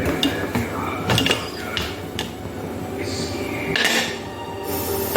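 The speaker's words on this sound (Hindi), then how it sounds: "फिर कुकर बंद करेंगे।" Metal clatter and knocks ring out as a pressure cooker lid is handled and shut in a home kitchen while aloo gosht cooks, with sharp clanks of cookware in close, irregular bursts.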